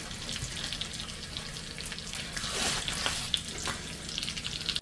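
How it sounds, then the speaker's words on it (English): Bacon frying in a pan for crack chicken gives a steady, moderately loud crackling sizzle with scattered sharp pops, running continuously with no voices. "the other bacon that is cooking right now in the frying pan"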